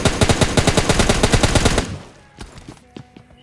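Rapid automatic gunfire from an M416 rifle in the mobile game PUBG Mobile Lite, a loud sustained burst followed by a few scattered, quieter single shots.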